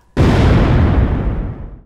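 A film explosion erupts as one sudden, loud blast, then a deep rumble slowly fades over about a second and a half, with no voices.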